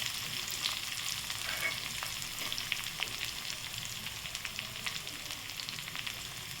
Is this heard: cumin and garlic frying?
yes